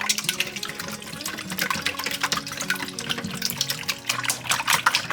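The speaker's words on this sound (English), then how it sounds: "we're just going to give those a whisk" Eggs beaten with a whisk in a bowl for a mini quiche mixture, a continuous close liquid sloshing and rapid rhythmic clatter, steady throughout with no talking.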